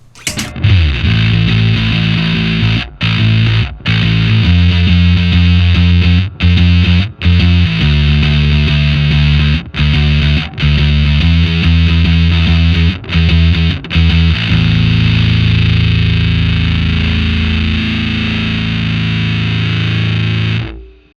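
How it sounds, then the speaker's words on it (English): Bass guitar with a Music Man pickup, heavily distorted by a Scully fuzz pedal, plays a chugging riff with abrupt stops, then holds a sustained note that rings out and fades. "let's turn some distortion on with the Scully fuzz"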